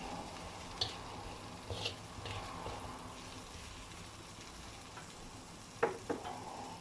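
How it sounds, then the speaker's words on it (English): Thai yellow curry with chicken and okra is stirred in a pan, with a quiet steady simmer and a few scattered scrapes and clinks of the utensil, close and faint. "Stir this."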